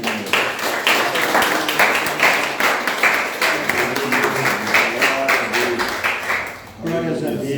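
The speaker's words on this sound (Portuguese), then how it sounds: "vamos receber o servo de Deus com uma chuva de palmas" A church congregation claps together in a burst of rhythmic applause, loud and close, with some voices mixed in, fading near the end as a voice takes over.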